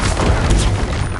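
A short, loud whooshing burst from an Incendio fire spell cast in Hogwarts Legacy, a broad roaring flare lasting about a second.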